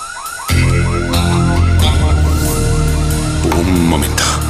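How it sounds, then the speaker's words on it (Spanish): A repeating electronic alarm warbles loudly and continuously after a brief quiet start, with other noise mixed underneath. "Dos diez, suena una alarma."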